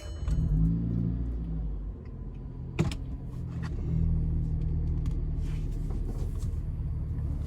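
A car engine fitted with an AWE Tuning Touring Edition exhaust cranks and fires up, then settles into a steady, mellow low rumble at idle, recorded close.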